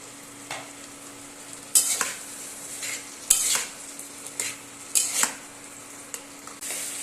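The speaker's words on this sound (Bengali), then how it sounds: "সোয়াবিনটা দিয়ে একটু কষা হয়েছে, এবার দিয়ে দেবো আলুগুলো, আগে থেকে হালকা সিদ্ধ করে রাখা আলু" Soybean chunks and lightly pre-boiled potatoes are stir-fried in a pan, with a steady low sizzle under repeated, irregular scrapes and stirs of a utensil against the pan, close by and with no talking.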